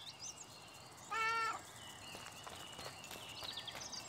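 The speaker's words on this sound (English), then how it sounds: "Is that the cat from Coraline?" A cat in the Little Misfortune video game gives one clear, drawn-out meow partway through, standing out against quiet game ambience and soft footsteps.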